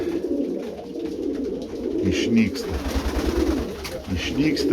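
Pigeons kept in a loft coo in low, rhythmic throbbing bursts close by while someone talks over them.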